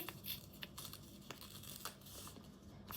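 Kinesiology tape is torn into three strips, producing a series of sharp, crackling tearing bursts at close range, each short and separated by brief pauses.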